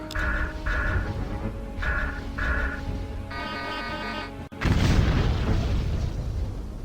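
A spaceship weapons salvo fires in Master of Orion II: tonal computer beeps lead into a sudden loud burst of explosive impacts that rumbles on as a noisy roar.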